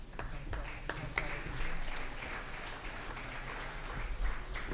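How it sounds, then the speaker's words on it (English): A round of applause for consignors at a cattle sale in Shelbyville, Illinois, moderate, fairly distant clapping from the crowd mixed with background voices. "Let's recognize all of our consignors with a nice round of applause."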